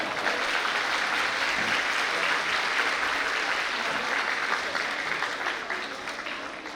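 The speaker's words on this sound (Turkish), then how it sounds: "Evet, alkışlarınızla." Steady audience applause at a KO MEK district exhibition event in Kocaeli, a dense wash of clapping that holds evenly and eases off slightly near the end.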